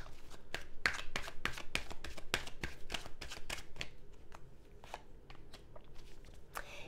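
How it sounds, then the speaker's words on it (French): Tarot cards being shuffled by hand, a rapid run of crisp riffling snaps that thins out into slower, sparser flicks toward the end, close and clear with no talking. "je vais vous tirer une carte bonus qui peut nous parler de cette situation"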